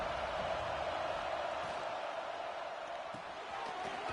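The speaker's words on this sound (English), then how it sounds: "This crowd ready to make its presence known." A football stadium crowd roars as a steady, dense wash of noise, loud and continuous throughout, with a broadcast commentator's voice faintly underneath.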